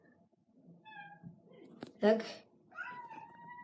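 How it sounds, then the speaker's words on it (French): A pet cat meows close by in a few short, clear cries, with a person speaking in between during a Clash Royale game session. "ça c'est mon chat"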